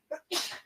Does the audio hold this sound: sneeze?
yes